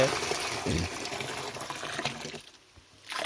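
Water gushes and splashes continuously from a pump outlet, steady and fairly close, easing briefly near the end before surging again.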